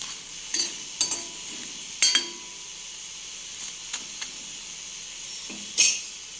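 Murukku batter frying in hot oil while being stirred, a quiet bubbling sizzle broken by several short metallic scrapes and clinks of a utensil against the pan.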